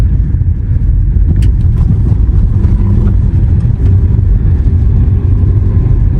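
A Tata Sierra diesel SUV drives over a rough, landslide-damaged mountain road, with loud, steady low engine and road rumble and occasional knocks and rattles from the cabin.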